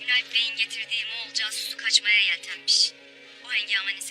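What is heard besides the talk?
No everyday noise stands out behind the speech.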